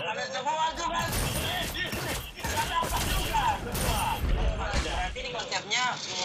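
Rapid game gunfire crackles in bursts mixed with clanks and crashes, while a voice talks excitedly over the busy, dense action.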